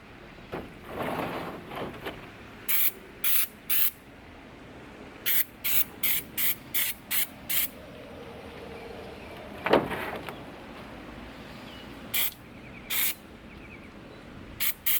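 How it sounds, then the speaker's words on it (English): Short bursts of hissing spray from an aerosol can of Raptor bed liner, repeated in quick rhythmic pulses with pauses, close by, plus a few softer rattling sounds. "I'm gonna keep shaking this up, and then we'll start spraying."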